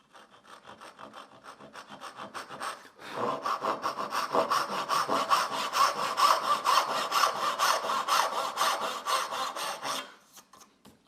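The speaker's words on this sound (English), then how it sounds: "I'm now going to be sawing waist side of the line" Hand saw cutting wood down the waste side of a marked line for a dovetail joint, steady back-and-forth rasping strokes, lighter at first then a sustained louder run of close, rhythmic sawing before stopping.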